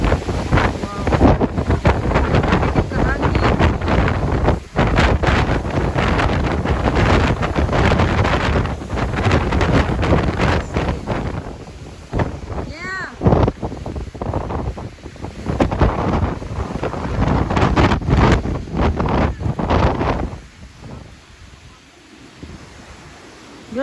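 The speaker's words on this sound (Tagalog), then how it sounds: "Grabe ang hangin." Strong cold wind at Grand Canyon's Mather Point roars and buffets the microphone almost continuously, loud and close, easing briefly in the middle and near the end, with voices talking faintly underneath.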